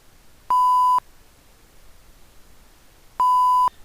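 A FARO Focus laser scanner gives two identical steady electronic beeps about half a second each, spaced nearly three seconds apart over a quiet background.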